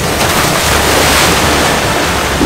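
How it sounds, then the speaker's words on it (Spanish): Water from a wave washing in on a shoreline, a steady broad rushing wash that fills the whole stretch, fairly loud and near, with no speech over it. "¡Ahí viene el agua!"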